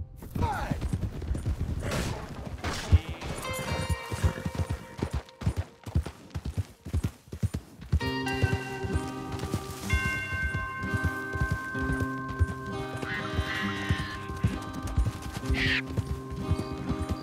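Horse hooves clip-clop rapidly and rhythmically in Red Dead Redemption II, close and continuous, with a sustained musical score entering halfway through.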